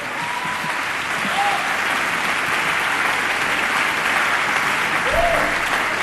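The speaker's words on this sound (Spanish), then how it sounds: "Un fuerte aplauso." An audience applauds at a music awards ceremony in a concert hall in Zaragoza, a sustained, even wash of clapping throughout with a few faint whistle-like tones rising above it.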